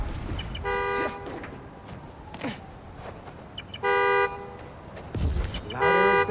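Several loud car horn honks from a Spider-Man video game, sounded by a key fob to locate the car, in short bursts spaced a few seconds apart, with fainter background noise between them.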